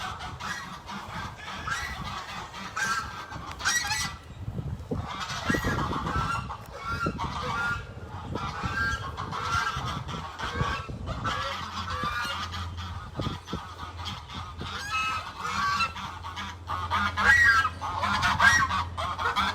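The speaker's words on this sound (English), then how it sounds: "And then we have our Sebastopol geese over here." Sebastopol geese on a farm honk loudly and repeatedly, overlapping nasal calls from several birds close by, continuing throughout with a low hum underneath in the later part.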